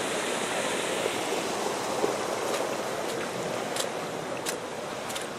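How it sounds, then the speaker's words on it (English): A waterfall near Lomen Stave Church roars as a steady, dense rush of water, loud and close, with a few faint clicks on top and no speech. "A waterfall."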